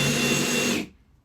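A Ryobi One+ HP RPD18C cordless hammer drill set to screwdriving mode whirs steadily and loudly for under a second, then cuts off abruptly into near silence.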